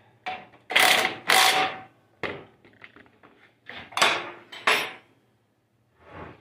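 A fitting is tightened with a 3/4 inch wrench: a series of loud metallic clanks and ratcheting scrapes come in irregular bursts, close by, with short pauses between them and no speech.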